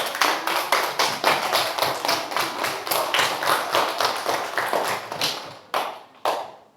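A class of students applauding together in a rhythmic, rapid clapping pattern, loud and close, keeping a fast steady beat before slowing to two final claps.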